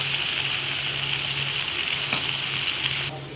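Chicken curry ingredients frying in a pan, Tamil-style with spicy pepper powder and coriander, a loud continuous close sizzle that holds steady for about three seconds before dropping off abruptly.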